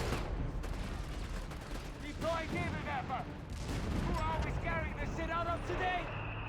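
Anti-tank guns fire in a Company of Heroes 3 battle, sharp reports and a clattering fusillade of gunfire under steady battle noise, with a voice talking over the action.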